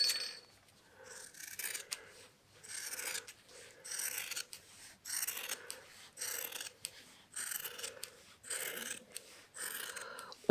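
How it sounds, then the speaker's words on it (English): Scissors snip steadily through quilt wadding, a run of repeated close crisp cuts in an uneven rhythm with short pauses between bursts, quiet and up close with no talking. "So we need to trim the wadding down so it butts up together."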